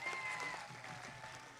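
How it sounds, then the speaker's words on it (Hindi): Audience applause at a tribal convention for Rahul Gandhi in Tamsala, Hingoli, Maharashtra, a broad steady wash of clapping from a crowd lasting the whole moment, fairly faint and distant. "राहुल जी को तालियां बजा के फिर से एक बार अभिवादन कीजिए"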